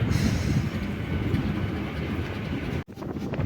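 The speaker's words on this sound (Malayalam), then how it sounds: "ഇരണ്യൽ റെയിൽവേ സ്റ്റേഷൻ പാസ് ചെയ്ത് പൊയ്ക്കൊണ്ടിരിക്കുകയാണ്" A train rolls through Eraniel railway station, a continuous rumbling roar of wheels and carriages with a brief dip in level near the end, steady and close.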